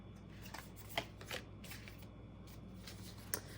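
Quiet shuffling of Work Your Light Oracle cards for a reading, with soft riffling slides and a few crisp snaps of the deck at a close distance.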